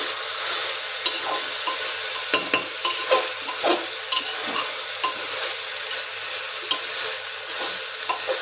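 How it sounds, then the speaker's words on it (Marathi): Rice for matar pulao sautéing in a pan: a continuous close sizzle broken by frequent spatula scrapes and knocks against the pan in an uneven stirring rhythm. "तांदूळ घालून चांगलं परतून घ्यायचं आहे"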